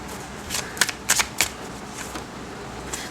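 Tarot cards being shuffled and drawn, heard as a few quick papery riffles and flicks in short bursts, close and fairly quiet, with no talking.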